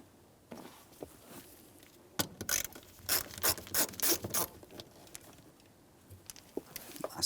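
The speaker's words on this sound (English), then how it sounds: "we'll continue on with a Phillips head screwdriver to remove all of the hardware." Phillips head screwdriver backing out fuel tank shield mounting screws on a 1992-1996 Toyota Camry, with a quick series of close ratcheting clicks and rattles in the middle and faint handling noises around them.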